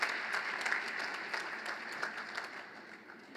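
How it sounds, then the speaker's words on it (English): Steady applause from a crowd at a high school department awards ceremony, dense clapping that fills the whole stretch at an even level, with no voices standing out. "yes, please, everyone, give her a great applause."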